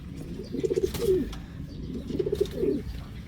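Cooing from a flock of eleven backyard pigeons, soft rolling calls repeating in two clusters close by, with faint wing rustles and no talk.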